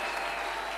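A church congregation claps steadily in dense, continuous applause, a short burst at moderate distance with no clear break.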